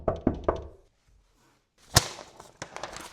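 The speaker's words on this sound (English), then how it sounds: "Here's how it went for Antonio door knocking." Three quick knocks on a door, then a pause followed by a sharp louder thump and a couple of fainter taps, close and dry.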